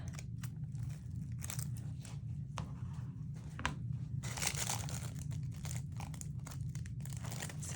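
Crisp crunching and crinkling bursts come from trimming a piece off a gingerbread girl wreath decoration, a few close cuts and snips over steady low background noise, with no talking.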